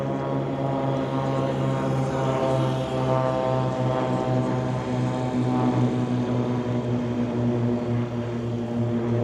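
A de Havilland Chipmunk warbird propeller plane makes a low pass down the runway at an airshow, its engine droning steadily and loudly throughout with a constant, unbroken tone.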